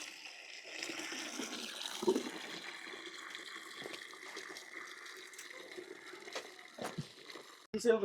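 Water is poured from a bottle into the engine of a new water pump on an eggplant farm, a soft steady trickle and splash with faint voices and small knocks nearby.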